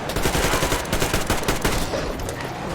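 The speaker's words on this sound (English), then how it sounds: "Start shooting them." Rapid automatic gunfire rattles in Metro Exodus as a player shoots at a pack of beasts, loud and continuous bursts with sharp repeated reports, close and without talk.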